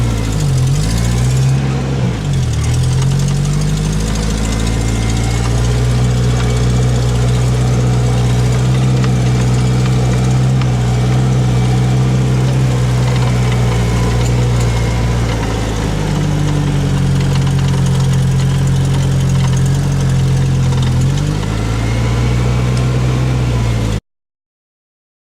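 A Mitsubishi Pajero idles near a cabin with a loud, low, steady engine rumble whose pitch dips and rises slightly a few times before the sound cuts off abruptly near the end.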